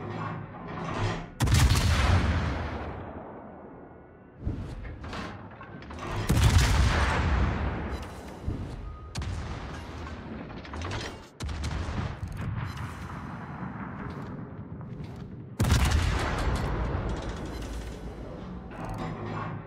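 Naval gunfire from the Tier 10 cruiser USS Des Moines in a video game: a run of heavy booming salvos at irregular intervals, with a rumbling wash between shots, moderately distant and fairly quiet.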